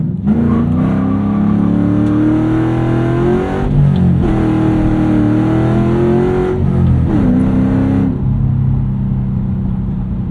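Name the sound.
2007 Ford Mustang Shelby GT accelerating off the line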